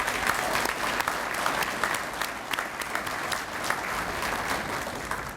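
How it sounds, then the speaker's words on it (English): An audience at an outdoor union gathering with a cookout breaks into applause, a steady patter of many hands clapping at moderate distance with crowd murmur underneath. "Let's give everyone a round of applause."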